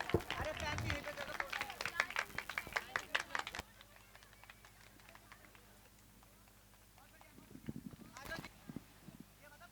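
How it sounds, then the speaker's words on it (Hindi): A burst of applause from a small group at a Jain temple cultural program, loud and scattered for a few seconds, then it stops and faint voices follow. "एक बार जोरदार तालियां।"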